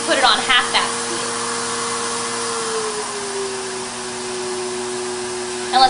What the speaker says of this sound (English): Right now the vacuum is running at full speed. That's 1 horsepower, which is way more than what you'll need.